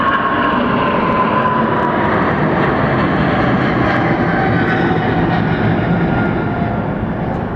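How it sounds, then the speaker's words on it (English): An Airbus A330 jet airliner roars close by at Atlanta Hartsfield-Jackson airport, its engines a loud, steady drone that holds for several seconds. "I'm missing this A330"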